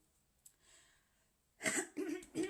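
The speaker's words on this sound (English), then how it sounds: "Let me just clear my throat here" A few harsh throat-clearing bursts in quick succession, close and fairly loud, following a faint rustle.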